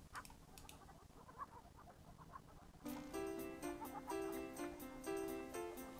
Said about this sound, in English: Do you want to feed the chickens?